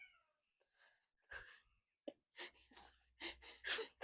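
A cat yells and yowls right after being picked up, letting out several loud, close, uneven cries with short breathy gaps between them.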